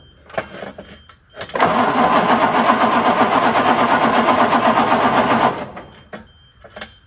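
Diesel engine cranking on a weak battery, a steady grinding starter churn held for about four seconds, with quieter cranking bursts just before and after.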